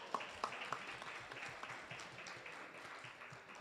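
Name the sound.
audience clapping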